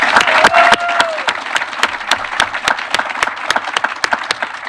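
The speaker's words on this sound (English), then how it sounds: "let's take a break and have a round of applause for Greg." Crowd at an outdoor library groundbreaking news conference gives a round of applause, sharp close claps standing out over a wash of clapping, a few cheers early on.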